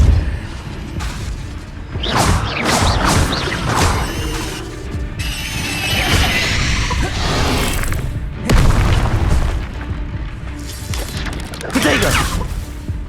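Depulso force spell from Hogwarts Legacy blasting amid busy combat, loud bursts and mechanical clatter repeating through chaotic game audio with crashes and effects layered throughout.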